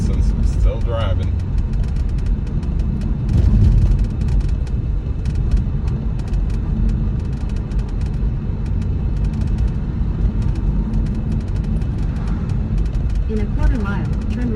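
A car drives along a road beside a stream, giving a continuous low engine and tire rumble from inside the cabin, with faint ticks and clatter over the steady drone.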